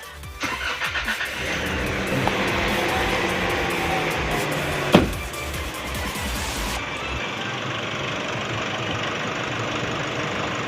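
A Nissan Caliber engine cranks with a rapid chugging and catches, then settles into a steady, close idle with a sharp click midway, the hum continuing evenly to the end.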